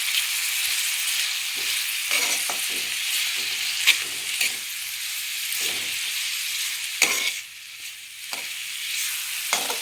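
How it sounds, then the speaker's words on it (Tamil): Onion-free sauté with turmeric powder stirred in a hot pan for a white channa gravy: steady sizzling hiss broken by scraping stirs of the spatula, close and fairly loud with no talking. "அப்புறம் தேவையான அளவு மஞ்சள் தூள் ஆட் பண்ணிவிட்டு நல்லா வதக்கி விட்டுக்கோங்க."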